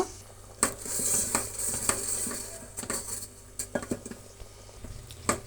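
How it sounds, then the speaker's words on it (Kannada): Jaggery syrup stirred with a wooden dough stick in a pan while making kajjaya, irregular knocks and scrapes against the pan's sides with a soft bubbling hiss beneath. "ನಾನು ಹಿಟ್ಟಿನ ಕೋಲಲ್ಲೇ ನಾನು ಇದನ್ನು ಕಲಿಸ್ತಾ ಬರ್ತೀನಿ"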